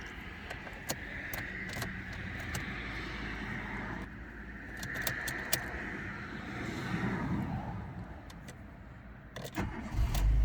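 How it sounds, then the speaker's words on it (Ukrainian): A Renault Logan engine cranks and catches, then idles steadily at close range, with no one talking. "Автомобіль заводиться без питань"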